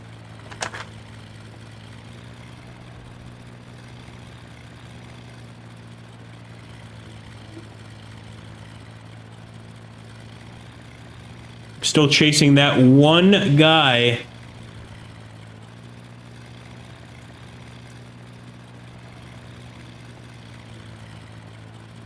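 Propeller engines of World War I warplanes in Skies Above The Great War hold a steady low drone from start to finish. Someone speaks briefly midway through.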